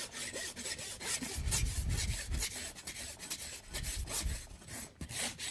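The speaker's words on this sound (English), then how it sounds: "using my rasp, I'm going to rasp down to that parameter that I set on the solar surface" Farrier's rasp filing down the rear hoof of a draft horse during a trim, heard as repeated rough scraping strokes in a steady back-and-forth rhythm, close and fairly quiet, with no talk.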